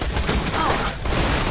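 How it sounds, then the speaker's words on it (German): A grenade explosion in the video game Borderlands 2 makes a dense, loud, rumbling blast that carries on through a steady clatter of battle noise and gunfire. "Ich werfe eine Granate."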